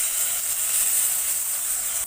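Ginger, cumin, garlic and onion paste frying in hot oil for a fish dopiaza, a constant loud bright hiss that stays even throughout and drops slightly at the very end.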